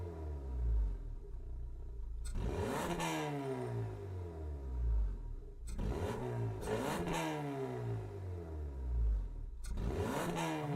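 Hyundai Elantra with a dual-clutch gearbox in a racing game, its engine revving up hard in repeated pulls, each climbing sharply through quick upshifts and then falling back to a low rumble.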